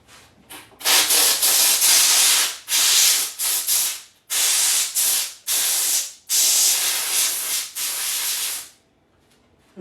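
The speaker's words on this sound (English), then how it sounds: "I'm going to step over here, steam clean it real quick." A steam cleaner blasts a 2024 Year of the Dragon Asahi silver round in loud close hissing bursts, about eight spurts of one to two seconds each with short gaps, then falling silent.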